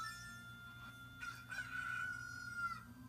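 A cucco rooster crows once in Zelda Ocarina of Time, a clear high cock-a-doodle-doo over a quiet game background, fairly faint.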